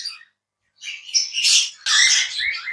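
Lovebirds give loud, shrill chattering squawks and chirps up close, in a short burst, a brief pause, then two longer runs of harsh calling.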